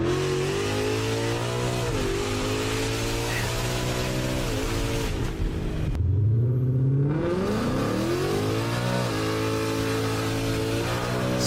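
A Ford Mustang S550 running an E85 tune revs hard with wheels spinning, its engine note climbing and falling in loud, close sweeps, dropping briefly before surging again, with a faint voice at the start.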